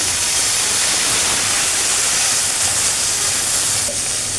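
Frying onions and spices in a pan with a splash of water added, giving a loud, dense, continuous steamy hiss that stays even and close for the whole stretch.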